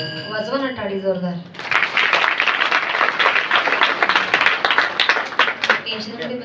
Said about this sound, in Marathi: वाजवा ना टाळी जोरदार